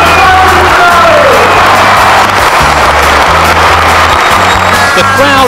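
Football stadium crowd at the Dell, Southampton, roaring and cheering for a tribute game to a long-serving Southampton player, a loud continuous din with whoops and shouts over low droning tones.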